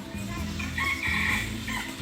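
Chickens at a Thai open zoo cluck and a rooster crows loudly up close, a brief, continuous burst of fowl calls with no talking.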